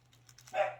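Dogs bark in a short burst at a moderate distance, rising sharply near the end over a low steady hum, with no talking.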